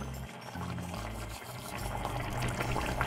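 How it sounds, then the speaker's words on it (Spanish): Water pours steadily into a pot of Peruvian beef stew (seco de carne de res) with browned beef, making a continuous close splashing and bubbling wash that runs the whole time, with no talk. "Le ponemos un poco de agua"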